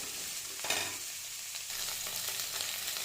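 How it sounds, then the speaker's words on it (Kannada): Sliced onions and green chillies fry in a pan for biryani, giving a close, steady sizzle with a brief scrape of stirring near the start and no voices. "ಇವಾಗ ಈರುಳ್ಳಿ ಮತ್ತು ಹಸಿರು ಮೆಣಸಿನ್ಕಾಯಿ ಎರಡನ್ನೂ ಸಹ ಚೆನ್ನಾಗಿ ಫ್ರೈ ಮಾಡ್ಕೊಳ್ಳಿ"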